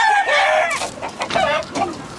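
Roosters crow loudly and close in several overlapping calls, with chickens clucking between them in a yard full of related birds.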